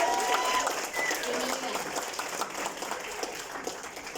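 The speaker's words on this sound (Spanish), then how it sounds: "¿Y qué tal si le damos un fuerte aplauso?" An audience at a conference talk applauds warmly, steady dense clapping that slowly fades across a few seconds, with faint murmuring voices underneath.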